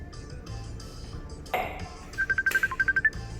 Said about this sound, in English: What phone is that? I think it's your phone.